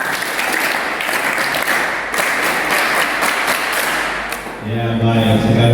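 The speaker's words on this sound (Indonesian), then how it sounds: "Coba tepuk semangat." A group at a leadership training session for church confirmation students claps a rhythmic spirit clap, sharp hand claps and thumps ringing out close and loud, ending abruptly as a voice resumes talking.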